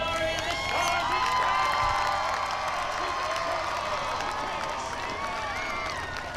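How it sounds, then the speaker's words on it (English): Crowd cheering and applause ring out at the Freedom Blast outdoor festival in Greer for the Old Glory and Stars and Stripes parachute team, a steady loud mass of clapping and voices with a public-address voice over it. "a big round of applause for Old Glory and the Stars and"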